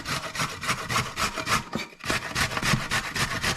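Carrots grated by hand on a metal grater, a steady run of rhythmic rasping strokes, close and fairly loud, with a brief pause midway and no talking.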